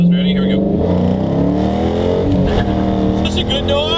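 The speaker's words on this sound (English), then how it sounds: "let's do a good little first gear pull on this thing" A 2016 Dodge Challenger's engine revs hard through a first gear pull, a loud, rising roar building steadily up close, with a voice talking over it.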